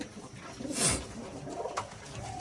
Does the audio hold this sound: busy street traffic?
no